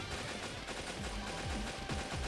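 Rapid machine-gun fire from the video game Metal Slug Awakening rattles in dense, continuous bursts, loud and close, with a few stuttering pauses.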